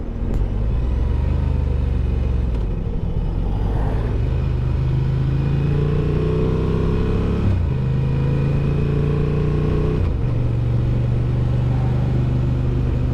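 A Honda Transalp XL750 motorcycle cruising at a steady 3,000 RPM on a two-up onboard ride, giving a loud continuous low engine drone with slight pitch shifts and constant wind rush; no one talks.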